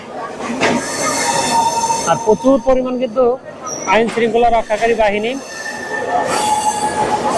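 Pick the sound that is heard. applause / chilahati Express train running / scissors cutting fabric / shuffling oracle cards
chilahati Express train running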